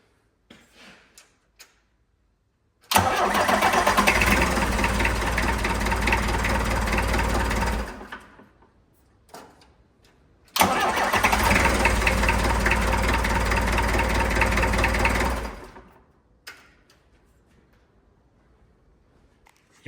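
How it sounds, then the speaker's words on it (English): A stone-cold engine with its starter motor just refitted cranks and fires, two loud sustained bursts of churning engine noise about five seconds each, separated by a quiet gap, with no voices. "The engine is stone cold, it's not been running today, and it fires straight up."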